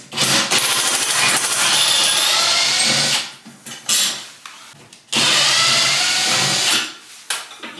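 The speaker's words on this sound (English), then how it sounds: "We're gonna take our overflow cover off. This is just another Phillips head." A power drill backs out the Phillips screw of a bathtub overflow cover during a bathroom demolition, heard as two loud, close whirring bursts a couple of seconds apart, with brief stutters between them and no speech.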